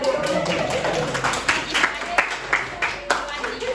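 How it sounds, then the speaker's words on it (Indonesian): A few students clap in a classroom during a short-story lesson, the separate claps loose and uneven against a background of talking voices. "tepuk tangan"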